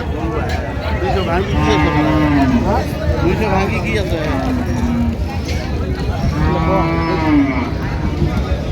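Dairy cows and calves lowing at a busy rural cattle market, several long, loud moos rising and falling over steady crowd chatter and people talking nearby.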